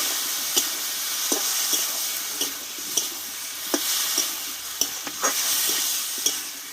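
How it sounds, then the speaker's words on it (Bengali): Gandhal leaf spice paste sautéing in a pan, a steady close sizzle with intermittent scraping stirs of a spatula, no voices. "এই গাঁধার পাতার মশলার পেস্টটা আমি এবার ঢেলে দেবো রেখে ভালোভাবে কষিয়ে নেব"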